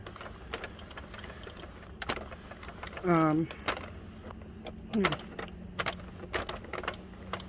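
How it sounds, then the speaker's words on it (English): Sentro hand-crank knitting machine being turned, steady clicking and clacking of needles with rapid plastic ticks, close up, broken by a couple of brief squeaky whirs. "so I'm going to keep cranking this. This is hand crank."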